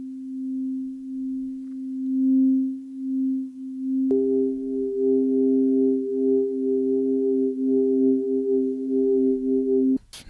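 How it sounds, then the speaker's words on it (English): A UDO Super 6 synthesizer plays a sustained tone, its Super DDS polyphonic unison mode adding a chorused, thickened quality; a steady single pitch shifts up at about four seconds into a richer layered sound, heard alone with no talking. "you can kind of get a bit of a chorusing thing going on with this section here, this thing called Super DDS"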